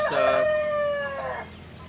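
A rooster crows once, loud and near, amid chickens at feeding time on a farm, with a faint cluck around it and no voices.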